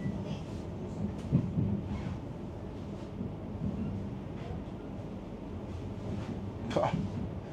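A train arriving at a large station in Holland, with faint rumbling of rails and carriages and wind buffeting the microphone, a few brief squeals, and a voice talking quietly over it.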